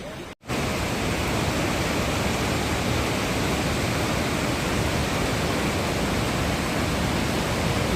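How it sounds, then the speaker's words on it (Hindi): Continuous broadband rush of a flowing mountain river stream along the Yamunotri trek in the Himalayas, loud and steady after a brief gap at the start, with no voices. "नदिया की ये बहती धारा है"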